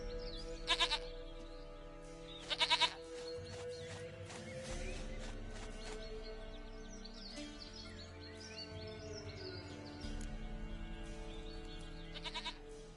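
A goat in The Witcher 3 video game bleats in a long, drawn-out wavering call in the middle of the clip, moderately loud. Short bursts of other game sounds can be heard near the start and end.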